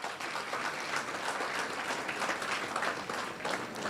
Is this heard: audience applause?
yes